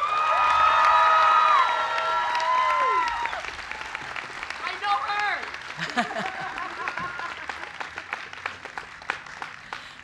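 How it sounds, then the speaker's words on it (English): Graduation audience applauding the 2023 keynote speaker at a preparatory academy ceremony, with whoops and shouted cheers at the start, then continuing clapping under spoken voices. "let's keep the round of applause coming till she gets up here"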